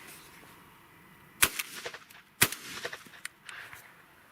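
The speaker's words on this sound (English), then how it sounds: "I'll shoot a few more 1080 foot per second 1-ounce loads" A Masai Mara Jet Black shotgun with a 24-inch barrel fires 1080 fps one-ounce loads outdoors: two sharp, loud reports about a second apart, each followed by fading echoes and rattles.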